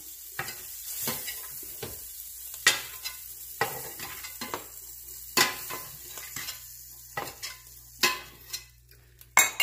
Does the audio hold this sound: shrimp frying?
yes